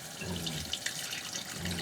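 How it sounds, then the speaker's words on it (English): Water runs steadily from a just-opened RV shower, a constant hissing spray with a few faint clicks and knocks, close by and without voices. "you're fumbling around trying to turn on the shower"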